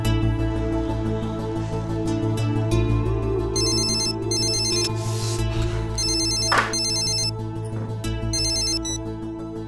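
A loud phone ringtone sounds continuously and close, its repeating electronic pattern layered over a dense musical backdrop with no speech.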